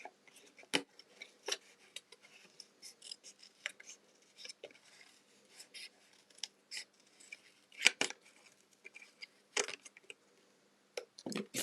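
Scissors trimming around a paper die-cut winter sentiment for a handmade card, a scattered series of quick, crisp snips with pauses between, close and quiet, no voices.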